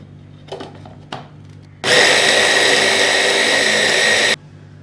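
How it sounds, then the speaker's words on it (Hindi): An electric chopper minces boneless chicken pieces, a loud, even motor whir running for about two and a half seconds after a couple of faint handling knocks, then cutting off abruptly. "हम इन चिकन के पीसेस को चॉपर में चॉप कर लेंगे।"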